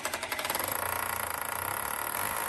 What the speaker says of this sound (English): we're going to drill more in towards the inside of the building rather than right on the edge.